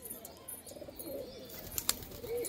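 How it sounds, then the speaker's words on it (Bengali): Domestic pigeons kept as a flock, cooing softly at a distance in a low, rolling murmur over faint background noise, with a brief wing or perch sound near the end. "দেখুন বন্ধুরা পায়রাগুলো সব"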